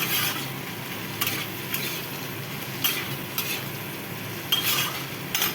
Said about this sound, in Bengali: দেখো এখন বেগুন বানাচ্ছি, পেঁয়াজটা ভেজে নিচ্ছি